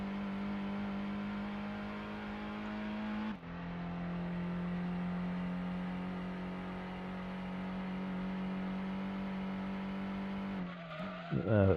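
A Mazda Cosmo in Gran Turismo holds a steady, buzzing engine drone, drops in pitch once as it shifts, then ends with a brief tire squeal.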